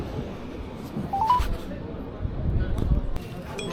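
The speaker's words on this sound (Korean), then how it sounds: "전화를 한번 또 해보겠습니다" Short rising dial-tone beeps from a phone dialing a call, heard faintly amid background chatter in a bar or taxi setting.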